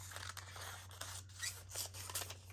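Scissors snipping through an old paper book page for a junk journal, close and fairly quiet, a run of crisp irregular cuts with faint rustling and no speech.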